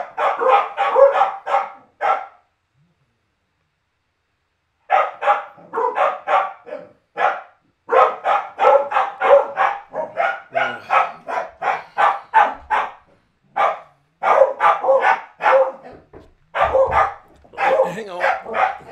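Dogs bark at home in rapid, loud bursts close by, with a short pause before the barking resumes in quick repeated runs that carry through to the end.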